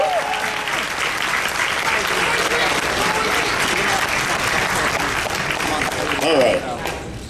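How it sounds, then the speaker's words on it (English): An audience at a convention closing ceremony bursts into sustained applause as a guest is welcomed to the stage, dense clapping and some cheering holding steady throughout before tapering slightly at the end. "give me a big round of applause to welcome Thornwing to the stage"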